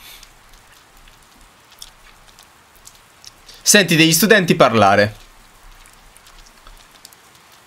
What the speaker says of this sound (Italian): E però ad oggi piove, e vai.